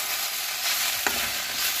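Okra (ladies finger) sizzles steadily as it fries in a pan, with a brief scrape of stirring partway through, close and continuous with no talking.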